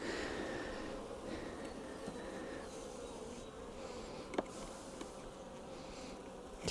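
Honey bees buzzing steadily around scale hives on an overcast day after rain, a continuous mid-pitched hum of many insects close by, with a few brief louder passes and faint clicks.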